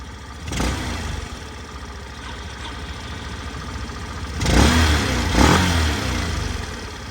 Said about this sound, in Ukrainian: гарно, тихенько, комфортно працює двигун